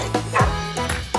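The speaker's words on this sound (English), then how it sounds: "Dog!" A playful cartoon dog barks a couple of times, loud and close, as a sound effect in a children's farm song with light music underneath.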